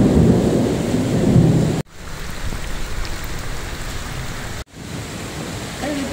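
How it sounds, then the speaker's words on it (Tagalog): Steady, dense rain pours down as a continuous hiss with a deep rumbling undertone, broken by two abrupt cuts. "Sana naman tumila na yung ulan."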